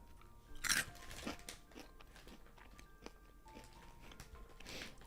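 Someone eating a crunchy snack close to the microphone, a loud crisp crunch followed by several softer bites and chewing sounds, quiet and intimate.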